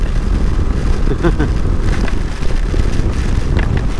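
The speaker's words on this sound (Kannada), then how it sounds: "ಮಳೆನೂ ಸ್ವಲ್ಪ ಡೌನ್ ಆಯಿತು ಗಾಳಿ ಮಾತ್ರ ಹೆವಿ ಇದೆ" Heavy wind roars and buffets against the microphone in a constant low rumble while riding at speed on a Kawasaki Ninja 650 motorcycle during a monsoon ride, rain easing.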